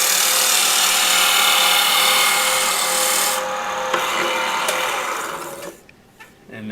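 A sharp woodturning tool cuts a spinning piece of wood on a lathe, bevel riding the surface, giving a continuous loud rasping hiss that thins and drops away near the end.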